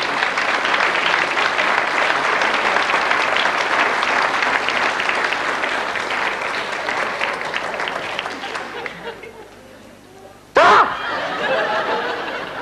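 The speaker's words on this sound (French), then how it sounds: "qu'on applaudit bien fort" A studio audience applauds a guest arriving on a TV cooking show, with sustained loud clapping and scattered chuckles that fade out, then a short burst of clapping returns.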